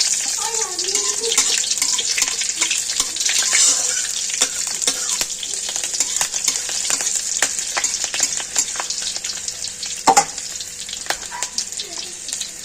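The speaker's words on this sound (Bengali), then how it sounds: "ফোড়নটা ভাজা হয়ে গেছে।" Whole spices and whole green chillies frying in oil as a tempering, a continuous loud sizzle and crackle close by with occasional clatter of a utensil, no voices.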